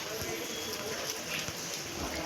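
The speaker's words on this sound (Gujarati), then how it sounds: "થોડી થોડી ફરફણ તો ચાલુ જ છે જુઓ" Light village drizzle falls in a steady, soft hiss of patter, with a faint low rumble beneath, close and even throughout.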